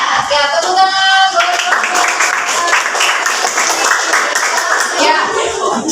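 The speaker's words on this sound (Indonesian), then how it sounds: "Ya, tepuk tangan." Children clapping in a classroom coding lesson, brisk rapid claps from many small hands forming a dense continuous patter, with kids' voices mixed underneath throughout.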